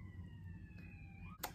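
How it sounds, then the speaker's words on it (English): An ambulance siren passes outdoors, a faint wailing tone sliding slowly downward in pitch under steady background noise, with a brief louder burst near the end. "Just an ambulance going by, it's fine."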